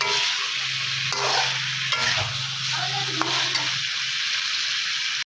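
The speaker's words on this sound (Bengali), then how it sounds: "আর ভেন্ডিটা কুমড়োটা দিয়ে দেবো। দিয়ে বেশ কিছুক্ষণ নাড়াচাড়া দিয়ে নেব।" Okra and pumpkin being stirred in a spiced pan for a vegetarian curry, a steady sizzle with scraping strokes of a spatula and a low hum underneath, no voices.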